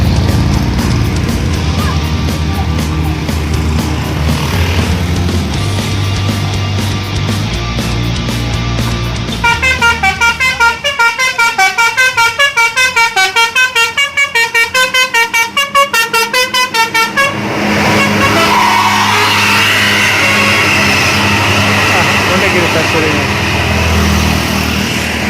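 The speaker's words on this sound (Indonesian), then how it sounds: "Wah, kebetulan banget langsung ada bis-bisnya." Buses climbing the Sambeng hill in Gunungkidul sound loud, near telolet horns, a rapid run of repeated musical notes in the middle, with engine rumble and people talking throughout.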